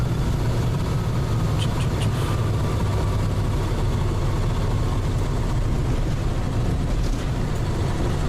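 A multi-wheeled aircraft taxiing with a tractor-like engine sends out a continuous low, heavy rumble. It stays loud and steady throughout, with a few faint high ticks above the drone and no talk.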